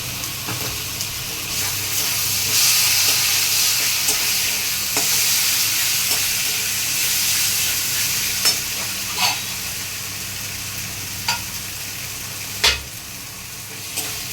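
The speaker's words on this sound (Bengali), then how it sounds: "মশলাটা একটু ভাজা হয়ে যাওয়ার পর এর মধ্যে একটু আদা রসুন, 2 চামচ আদা রসুন দিই" Spices fry with two spoons of ginger-garlic paste in a pan for a pointed gourd and prawn dish, a continuous loud sizzle broken by occasional clinks and scrapes of stirring.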